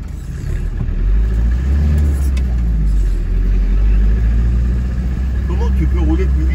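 A car rolls through a narrow town street at low speed, its engine a steady mid-pitched rumble with a slight rise, while people talk inside the cabin.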